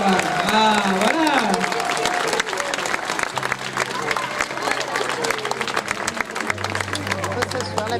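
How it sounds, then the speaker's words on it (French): An audience applauding a costumed participant dressed as Pierrot at a Venetian-style costume parade in Chanaz, with steady close clapping, crowd murmur and voices speaking over it. "Bravo, on peut l'applaudir bien fort."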